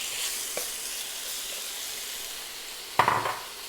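Steady, faint sizzle of chicken or Quorn frying for a korma in a hot pan over medium heat, with a brief clatter of stirring near the end.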